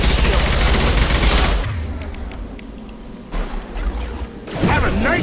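Gunfire in the video game Mass Effect 2: a loud burst of rapid shots and blasts, then a quieter stretch with scattered impacts before another heavy volley, with faint speech underneath.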